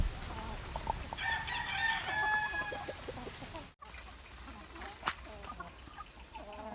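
Gamefowl breeding pen: a broodcock crows loudly near the start, with hens clucking around it and more scattered clucks and calls after a brief gap, no one talking.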